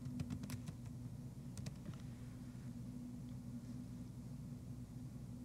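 A short quick run of keystrokes on a computer keyboard, faint clicks over a low steady hum, then only the hum.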